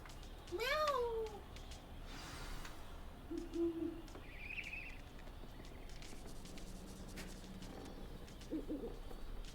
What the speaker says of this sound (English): When she meows like that, that means pet me now.